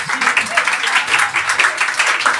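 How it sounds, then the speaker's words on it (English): A live comedy audience claps steadily in a dense burst of applause, loud and close, with some voices mixed in. "crowd applauds for moving on"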